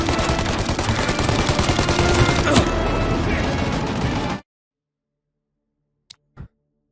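Heavy, continuous automatic gunfire blazes in a Mafia: Definitive Edition shootout. It is loud and rapid for about four seconds, then cuts off to silence with two faint clicks.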